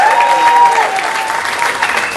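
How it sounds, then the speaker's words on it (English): A theatre audience applauds the musical director with a loud, steady round of clapping, while a sustained tone and faint voices sit underneath. "Give him a nice round of applause."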